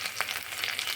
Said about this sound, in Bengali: আদা রসুনটা তেলে একটু নাড়াচাড়া দেব।